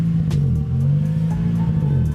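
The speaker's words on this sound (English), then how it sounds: "as you can hear, the Celica's still on" A Toyota Celica engine idles steadily in a garage, a close, continuous low rumble with a faint even pulse and no revving.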